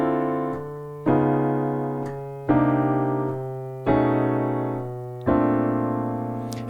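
A 3-6-2-5-1 chord progression using tritone substitutions, with five sustained chords struck one after another at an even, unhurried pace, each ringing out clearly and alone.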